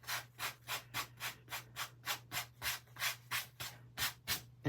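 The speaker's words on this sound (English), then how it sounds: "So you're going to scrape off your salt." Dried salt being scraped off watercolor paper, a steady series of about fifteen rhythmic, close, dry scratching strokes with no talking.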